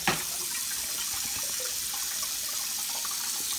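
A kitchen tap runs into a sink while dishes are washed, a steady splashing hiss of flowing water that lasts throughout with no voices.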